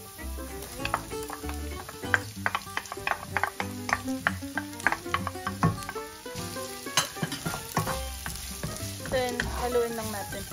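Chopped onion sizzles and fries in a hot pan over medium heat for paneer bhurji, with steady crackling and repeated stirring scrapes of a utensil against the pan, close and alone without talk.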